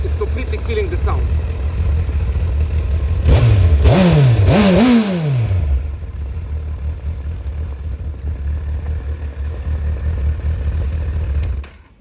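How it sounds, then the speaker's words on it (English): Honda CBF 1000 ABS motorcycle on its stock exhaust, revved hard near the mic: a steady idle, then two or three quick rising throttle blips that fall back to idle, then steady idling again. "with the stock exhaust, unfortunately, you cannot hear the spirit of this bike"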